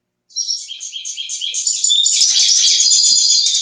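Goldfinch singing, a close, bright stream of rapid chirps and twittering trills that starts abruptly and grows fuller and denser, carrying on alone against silence.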